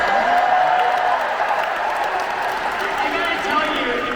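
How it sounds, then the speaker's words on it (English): Fans at the D23 Disney Parks & Experiences showcase cheer and clap as one steady, loud wash of crowd noise. A voice cuts through briefly near the start. "by the sounds of the crowd, we have some fans here"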